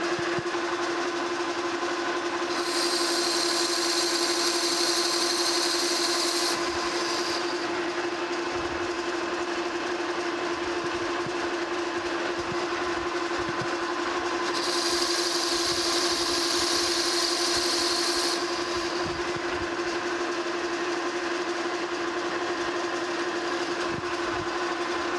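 A metal lathe turns down a gear blank's diameter for a metal planer restoration, with a steady motor hum throughout and two bursts of bright cutting hiss as the tool passes along the workpiece; no one speaks.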